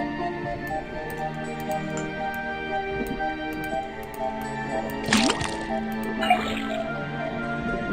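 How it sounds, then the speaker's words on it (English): In the Detective Grimoire video game, a faucet drips and trickles liquid into a cauldron, with bubbly gurgling and splashy squishes over steady game music and a couple of brighter splash bursts near the end. "Then tap the faucet."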